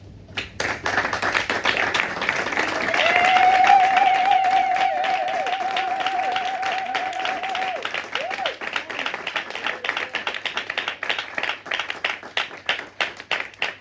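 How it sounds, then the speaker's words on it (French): A church congregation at a Sunday service stands and claps, a broad room-filling applause with a sung or shouted tone over it early on, settling into rhythmic, unison clapping toward the end. "Est-ce qu'on peut se mettre debout et applaudir pour le nom de Jésus?"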